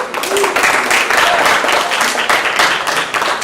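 Audience applause fills an awards evening hall, a dense steady wash of clapping throughout with no clear break, loud and close.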